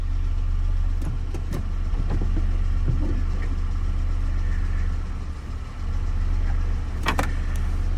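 A car engine idles steadily and fairly loudly during a gearbox check at a Copart salvage yard in Mobile, Alabama, with a low constant rumble and a few faint clicks and knocks over it.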